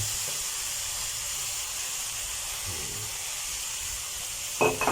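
Vegetables sizzle in a hot pan as they are stir-fried with oyster sauce, a steady hissing fry throughout, ending in a short clatter of the utensil against the pan.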